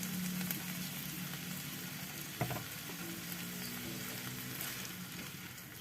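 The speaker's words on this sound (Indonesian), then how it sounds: "Diaduk-aduk sampai tercampur merata hingga bawang daunnya layu." Oyster mushrooms and spring onion stir-fry in a pan of oil with a steady close sizzle, a spatula scraping and stirring through it and one sharp clack of utensil on pan partway through.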